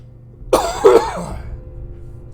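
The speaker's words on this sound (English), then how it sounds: "And I've already coughed twice this episode." A single short, harsh cough with a throaty edge, close and loud, fading quickly into quiet.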